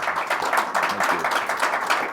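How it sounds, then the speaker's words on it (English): An audience claps for panelists at the close of a discussion on patients getting care during COVID, a steady round of dense applause at moderate volume with no talk over it. "Let's give our panelists another round of applause."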